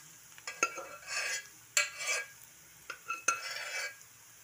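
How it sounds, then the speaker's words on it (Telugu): Boiled beetroot pieces are stirred with fried onions in a pan for beetroot pesarapappu, three separate bursts of spoon scraping and clinking against metal over a faint sizzle. "వేసేసుకుని 1 నిమిషం కలుపుకుందాం."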